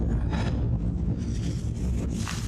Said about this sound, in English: this is pretty windy here